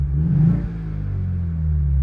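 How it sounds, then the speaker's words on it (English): A 2025 Ford Mustang EcoBoost exhaust set to normal mode gives one short rev, a low engine rumble that swells briefly and then settles into a steady idle drone, close and fairly loud. "Let's first check out these exhaust modes."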